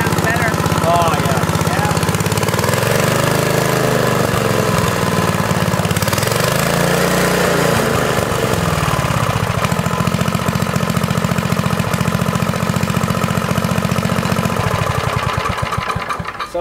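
A repaired tiller engine, fitted with a new belt and a new inline fuel filter, runs steadily and loudly with a rough mid-pitched chug for the whole stretch. Voices are heard talking over it.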